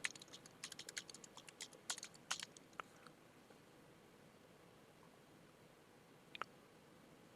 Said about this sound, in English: Type in our usual password.